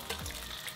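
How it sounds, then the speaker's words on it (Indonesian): Bakso meatballs fry in a pan with a steady, close hiss of sizzling oil, brief and without talk. "Baksonya kita goreng."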